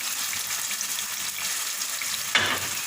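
Spicy chicken pieces sizzle steadily in a pan, a close, continuous hiss of frying, with a brief scraping stir near the end and no voices.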